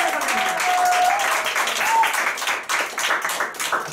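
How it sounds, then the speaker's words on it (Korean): A seminar audience gives a big round of applause to welcome a speaker; dense clapping holds steadily throughout, with a brief whistle-like tone over it. "자, 그분을 모실 때 큰 박수로 모셔주시기 바랍니다."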